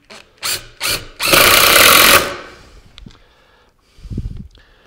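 A power drill drives 1 5/8 inch screws into an oak table build, with two short whirring pulses followed by a longer loud run, then quieter handling noises and a low thump, close up with no talk.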